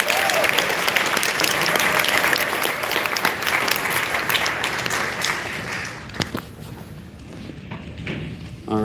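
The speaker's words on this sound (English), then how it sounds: "Give them a round of applause for all the contest winners this weekend." A closing-ceremony audience applauds contest winners with dense, sustained clapping that gradually thins toward the end, with a few scattered thumps.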